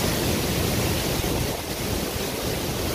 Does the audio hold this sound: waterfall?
yes